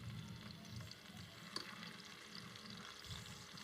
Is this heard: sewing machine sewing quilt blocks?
no